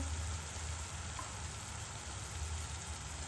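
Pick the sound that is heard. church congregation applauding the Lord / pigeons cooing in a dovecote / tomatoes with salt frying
tomatoes with salt frying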